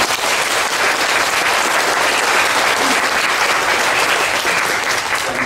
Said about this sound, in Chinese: 所以咱只是用掌声来献上哦